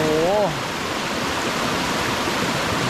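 A jungle stream in rainforest rushes and splashes in a steady, close, full wash of water noise, with a short spoken voice at the very start before the flow continues alone.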